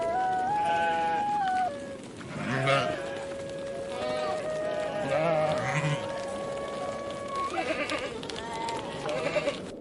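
Sheep and lambs bleat repeatedly in wavering, drawn-out calls, some overlapping, fairly close, with light hoof patter between the cries.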